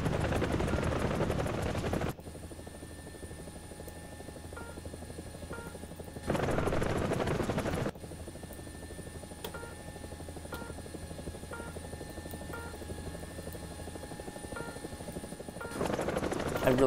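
Tiger UHT attack helicopter in War Thunder, a steady droning rotor and engine hum held throughout, broken by loud bursts of gunfire near the start, middle and end.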